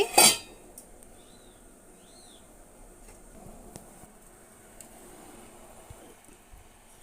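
A single sharp metallic clink at the start as a lid is set on a pan of sugar melting in water, followed by quiet background ambience.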